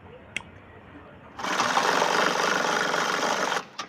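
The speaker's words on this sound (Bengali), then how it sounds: "তারপরে আমি আরেকটা সাইডে সেলাই মেরে দিই।" Sewing machine stitching the side seam of a churidar top, a steady close whirring run of about two seconds after a quiet pause.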